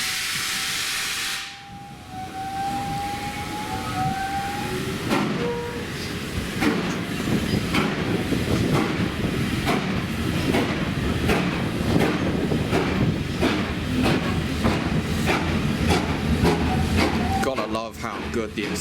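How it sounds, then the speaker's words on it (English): A Great Western steam locomotive on the Bluebell Railway pulls away from a station with a whistle at the start, then loud rhythmic exhaust chuffs that quicken as it accelerates, with hissing steam throughout. "How good the acceleration on the Great Western engines is."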